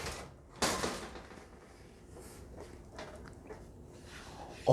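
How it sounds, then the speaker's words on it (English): A hinged side panel door on a PC case swings open with one sharp click or clack near the start, followed by quieter handling noises and a faint knock at the end. "Oh, that is a nice hinged door."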